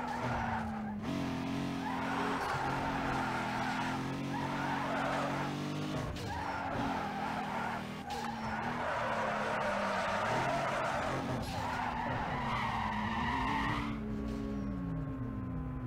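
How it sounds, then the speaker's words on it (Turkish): Car tires skidding and squealing in the racing video game Need for Speed Underground 2, with a steady loud engine drone and repeated drawn-out screeches throughout, no talk over it. "Çok lastik yaktık ya."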